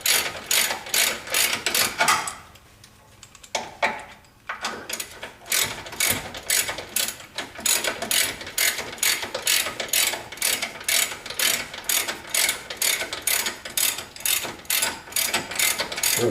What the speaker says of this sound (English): It would be nice if that air wrench was a little bit smaller